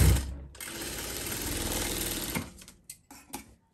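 A sewing machine runs steadily, stitching a straight seam for a tailoring lesson on an umbrella-style top, whirring loudly for about two seconds and then slowing and stopping, followed by a few light handling clicks.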